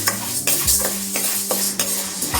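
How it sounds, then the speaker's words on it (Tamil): Chana dal dry roasting in a pan for a Tamil paruppu podi, stirred with a spoon in steady, repeated scraping strokes about every half second, close and moderately loud with no talking. "கடலைப்பருப்பு வறுத்துக்கலாம்."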